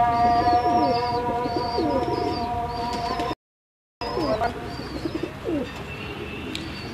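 Pigeons on a new rooftop coo steadily in soft, repeated rolling calls, several birds close by, with chirps mixed in and a brief dropout midway.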